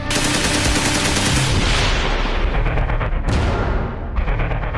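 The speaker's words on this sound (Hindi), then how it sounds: "अंधाधुंध फायरिंग से पूरा इलाका थर्रा उठा। गोलियों की तड़तड़ाहट गूंजी" Dense bursts of rapid automatic gunfire rattle continuously and loudly, the shots blurring into a harsh, sustained roar.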